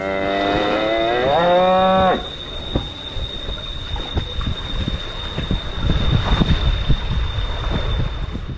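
A cow gives a long, loud, wavering moo for about two seconds, then rustling and scattered bumps with outdoor noise follow.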